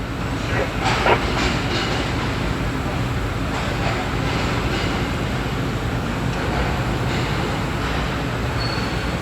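Train pulling into Lahore Junction, a loud continuous rolling rumble with faint rail clatter running steadily throughout.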